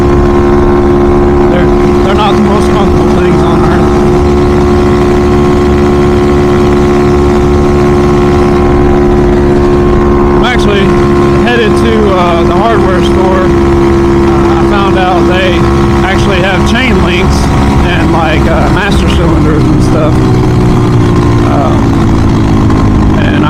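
A Grom clone pit bike with a swapped SSR 110 engine on a test ride, its small single-cylinder engine droning loudly and steadily throughout, with pitch shifts as the throttle changes and a voice talking over it.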